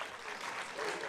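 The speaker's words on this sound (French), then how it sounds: "qu'on va aussi applaudir fortement" An audience at a conference on travel in Marseille applauds a thanked organizer, a dense, even wash of clapping from many hands throughout, somewhat distant and unbroken.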